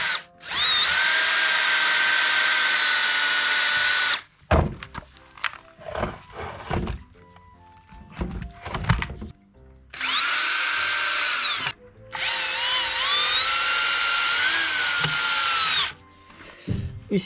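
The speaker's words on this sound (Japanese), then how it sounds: "じゃあここに穴を開けていきます" Power drill boring a hole into the body of a 1973 VW Type 2 bus, loud sustained whine in two long bursts with clanks and handling noises between them, no talking.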